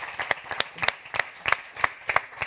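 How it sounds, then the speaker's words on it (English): A small audience claps in a loose, sparse rhythm to close a planetary health conference, with distinct individual claps, fairly faint and with no talk. "A big applause for our speakers, Luis, Clara, Miguel Ángel."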